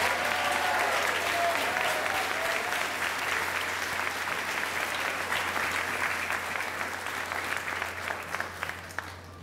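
A graduation ceremony audience applauds an award recipient, dense crowd clapping that stays sustained and full over several seconds before starting to thin out, with a steady hum underneath.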